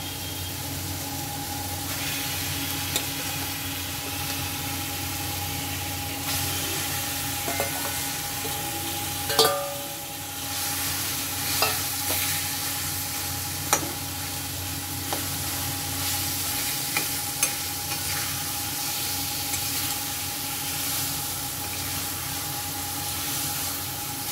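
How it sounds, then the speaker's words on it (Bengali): Minced keema, mixed with seasoning, sizzles steadily in a hot pan for a long stretch, with occasional scraping and clinks of a spoon stirring it, close and unbroken. "এবার আমি এই মাখা কিমাগুলো দিয়ে দেবো এখানে।"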